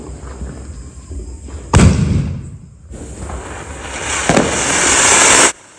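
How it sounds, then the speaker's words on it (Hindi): Diwali firecrackers burst with loud cracks, followed by sustained crackling and hissing from close by, rising again into a second loud burst. "अब फाइनली बारी आ चुकी है खूब सारे पटाखे फोड़ने की"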